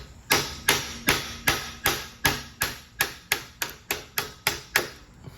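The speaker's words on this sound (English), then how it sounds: "Hit the hammer a couple licks and it'll push that pin right through." A 2-pound sledgehammer strikes repeatedly to drive a pin through a car's shifter linkage, about fourteen sharp metallic blows in a steady, slightly quickening rhythm, close and clear.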